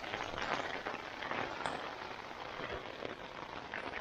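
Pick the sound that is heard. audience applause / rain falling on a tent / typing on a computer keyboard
rain falling on a tent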